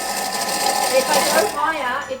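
A small electric food chopper whirs steadily at close range while chopping tandoori spice paste, its high buzzing motor tone wavering as the load shifts, then easing slightly toward the end.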